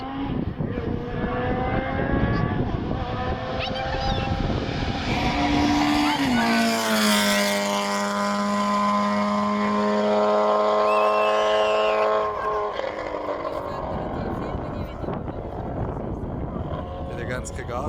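Classic cars racing up a Swiss hillclimb, a loud engine roar that climbs in pitch as a car approaches and passes close by, then fades, with crowd noise and voices around.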